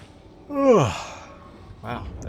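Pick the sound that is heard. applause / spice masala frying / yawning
yawning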